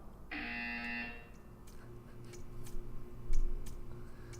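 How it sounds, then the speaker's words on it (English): A steady electronic buzzer tone sounds for just under a second in the game Portal 2, followed by quiet room tone and faint scattered ticks. "You will hear a buzzer."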